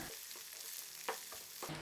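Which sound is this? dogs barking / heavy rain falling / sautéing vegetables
sautéing vegetables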